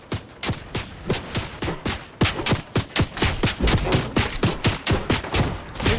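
Steady rhythmic volleys of gunfire in Fortnite, sharp repeated shots firing in quick bursts at close range for several seconds, with no talk over them.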